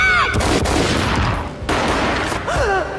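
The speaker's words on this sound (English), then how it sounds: "A gunshot boomed and she fell down in slow motion." Gunfire in the Max Payne video game, a dense burst of shots filling most of the moment, loud and close, with a brief dip before the firing resumes and no talk over it.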